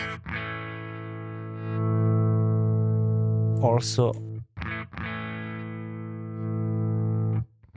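Electric guitar runs through the Neural DSP Archetype Rabea plugin with its dual compressor engaged, giving long sustained, distorted chords that ring out and stop abruptly, with a short spoken line between phrases.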